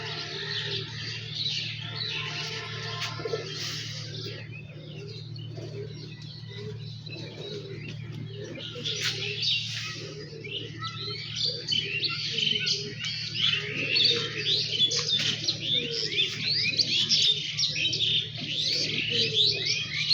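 Pigeons at a loft call repeatedly with chirps and soft coos, close and lively over a steady low background hum, with no talking.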